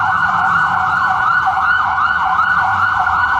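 A cartoon fire engine's siren as it sets off, a steady loud wailing cycle repeating evenly over a low engine hum, with no talking.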